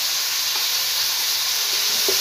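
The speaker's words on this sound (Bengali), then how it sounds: "পেঁয়াজটা ভাজা হোক" Onions frying in a pan for a Bengali chicken and potato curry, a close, steady loud hiss and crackle of hot oil with faint pops, continuous and alone without talk.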